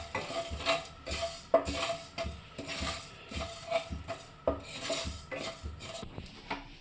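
Whole cumin, coriander and five-spice seeds lightly dry-roasting in a pan, heard as repeated metal scraping and clinking of a spatula against the pan in an uneven stirring rhythm, close and fairly quiet, with no talk.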